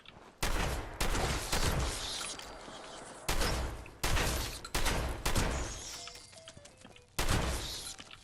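Gunshots in the Fallout 76 video game, with a series of loud, sharp blasts spaced irregularly, each followed by a lingering rumbling decay and no speech over them.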